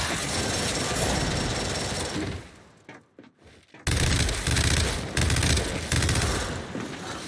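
Loud, rapid gunfire from Gears 5 multiplayer in sustained bursts, broken by a brief lull of quieter shots before heavy firing resumes; no voices.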